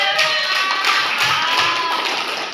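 A classroom of students claps together in applause, a dense, steady patter of many hands close by that holds for the whole stretch without fading, with no one talking over it.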